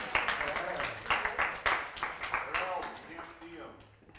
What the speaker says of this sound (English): Let's give them a round of applause for decorating for Christmas anyways.